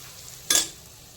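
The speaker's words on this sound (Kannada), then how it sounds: "ಸೊ ಇದೊಂದು ಸ್ವಲ್ಪ ಎಣ್ಣೆಲಿ ಹಾಗೆ ಫ್ರೈ ಮಾಡ್ಕೋಬೇಕು." Garam masala and kitchen king masala hitting hot oil in a pan, a single short burst of sizzling that flares loudly and fades within a moment.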